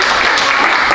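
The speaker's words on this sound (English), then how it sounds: "I think she deserves a big round of applause." A brief, loud burst of audience applause for a competitor during a live cookery demonstration at a cookware awards event, thick and continuous clapping with no speech over it.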